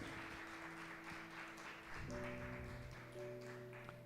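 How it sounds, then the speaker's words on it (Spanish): A church congregation applauds with a steady, moderately distant clatter of many hands, while sustained organ or keyboard tones enter partway through and ring beneath the clapping. "Denle un aplauso a Jesucristo."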